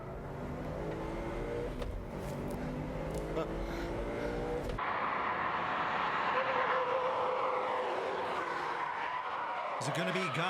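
A Subaru Impreza Spec C and a Mitsubishi Evo race, with rising engine roar, tire noise and a car sweeping past. The sound changes abruptly partway through, and voices can be heard over the cars.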